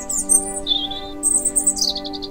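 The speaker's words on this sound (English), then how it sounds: "She's just a tiny birdie." A tiny bird chirps by a big tree in a garden, giving a run of bright, high tweets and short trills, close and clear, with pauses between phrases and no speech.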